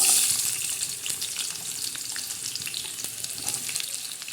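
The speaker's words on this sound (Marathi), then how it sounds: "तेल टाकलेलं आहे याच्यामध्ये आता आपण त्याच्यावर प्रथम काय सोडणार आहोत कांदा" Onion frying in hot oil in a kadai, giving a steady close hiss with crackling pops and faint scraping, no voices.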